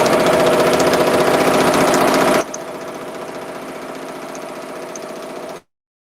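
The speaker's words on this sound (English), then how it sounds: "It's going to do my tack down stitch, and then it's going to stop right before the satin." A home embroidery machine runs a tack-down stitch while making Christmas gifts, giving a steady, close mechanical whirring hum that drops to a quieter, thinner running tone partway through before stopping abruptly.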